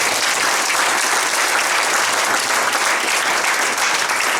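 A hall of fame audience keeps up steady, full applause for an honoree, a former offensive lineman. The clapping is even and continuous throughout, with no voices above it.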